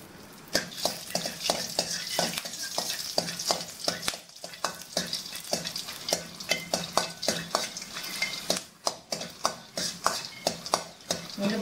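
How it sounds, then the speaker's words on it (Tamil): Dried turkey berries (sundakkai vathal) are stir-fried in a pan: a soft sizzle runs under quick, rhythmic scrapes and taps of a spatula against the metal, close and continuous. "சுண்டவத்தலை வந்து நம்ம வறுத்து எடுத்துக்கலாம்."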